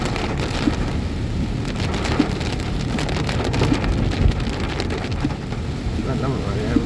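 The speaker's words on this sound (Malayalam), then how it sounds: "നല്ല മഴയാണ്." Heavy rain pours steadily on the road, a dense continuous wash with scattered drops and low traffic rumble, with no pauses throughout.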